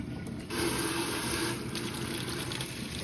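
Water runs steadily into a plastic container after the bleach water has been dumped out, a continuous hissing pour that grows slightly louder partway through and keeps going without any talk.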